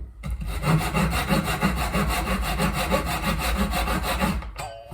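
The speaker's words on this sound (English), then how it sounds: "Might actually use a crosscut to start me." Crosscut hand saw cutting through wood, with steady back-and-forth strokes in a regular rhythm, close and fairly loud, stopping near the end.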